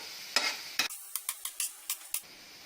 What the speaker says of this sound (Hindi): अब इन सबको अच्छे से मिक्स करेंगे।